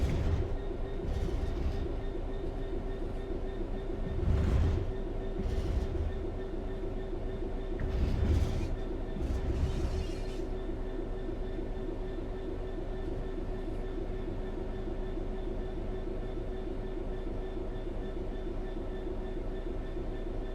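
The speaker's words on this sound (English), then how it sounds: "The train will then coast on level ground" A train in the video game Train Sim 3 coasts steadily on level rails with a low rumbling drone and a few louder clattering bursts early on, then an even hum.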